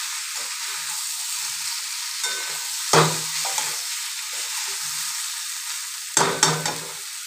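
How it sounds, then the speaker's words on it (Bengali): Salt, turmeric and chili powder sautéing in a pan for an egg, potato and soybean curry: a steady close sizzle with two brief bursts of stirring and scraping. "নুন হলুদ আর একটু লঙ্কা গুঁড়ো দিয়েছি। কষিয়ে নেব।"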